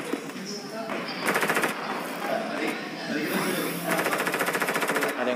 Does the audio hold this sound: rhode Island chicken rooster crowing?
no